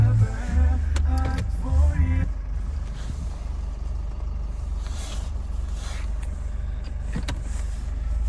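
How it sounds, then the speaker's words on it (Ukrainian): The electric motor of the panoramic sunroof on a Nissan Qashqai+2 2.0 dCi 4x4 automatic hums steadily as the roof closes and opens, over a low engine rumble, with a brief bit of talk at the start. "Панорама також працює, в автоматичному режимі зачиняється, відчиняється"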